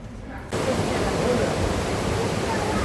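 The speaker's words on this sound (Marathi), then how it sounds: "ही मुठा नदी आहे, मुठा नदी." The fast, forceful current of the Mutha river near Pune rushes in as a loud, steady broadband roar that starts abruptly after a brief quieter moment and holds evenly to the end.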